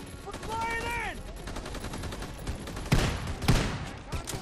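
Shotgun fire during a Call of Duty WWII campaign battle, two sharp loud blasts about half a second apart amid a busy wartime din, with a voice shouting early on.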